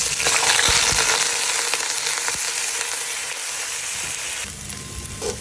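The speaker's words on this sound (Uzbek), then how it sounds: "yog'im qizigach, xuddi mana shunday yuvilgan guruchimizni solamiz" Washed rice frying in hot oil in a cooking cauldron, a steady close sizzle that stays loud throughout with light stirring scrapes.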